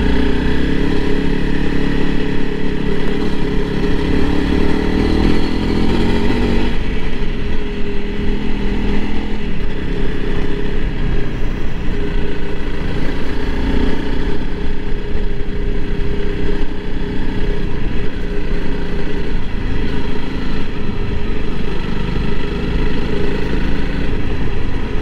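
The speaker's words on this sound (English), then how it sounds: "You can hear the rear end just chattering" A 2021 Honda CRF300L Rally motorcycle rides Hwy 36 and Cummins Creek Road in Northern California with a steady, loud, close engine drone, wind rush and rough-road rumble, while the rear suspension chatters over bumps.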